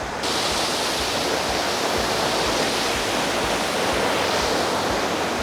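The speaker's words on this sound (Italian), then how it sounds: "è un posto dove c'è molto rumore, dove c'è tanta acqua che si muove" Rushing water of a large waterfall on a river in a city, a steady, loud, broadband roar that continues unbroken throughout with no voices.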